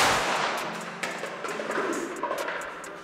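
A rifle shot fired at construction helmets on an outdoor range, the sharp report opening loud and decaying into a long rumbling echo, followed by a few fainter cracks.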